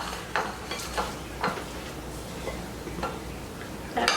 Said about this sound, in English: Alright, I'm going to stir this around.